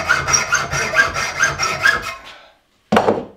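A hand saw cuts 2 mm off a part for a car jack upgrade: about ten quick, even back-and-forth strokes, loud and close, then a short silence and one final stroke.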